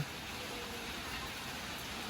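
Rain falls steadily as a soft, even hiss of constant patter with no pauses, moderately quiet and continuous throughout.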